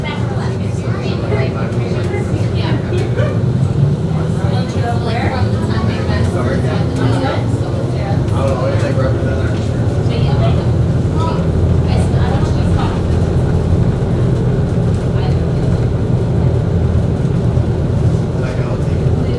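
Miami MetroMover automated train arriving at Fifth Street Station in Miami, a continuous close low rumble with scattered rattles and faint tonal whines over its length.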